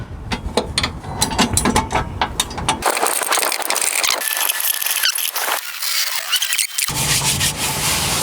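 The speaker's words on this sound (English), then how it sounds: "I'm going to be using a box wrench just to kind of get my hand in there." A box wrench working 14mm bolts on a gas tank skid plate under a 2016-2021 Toyota Tacoma, giving close, rapid ratcheting clicks and metallic rubbing in bursts, without talk.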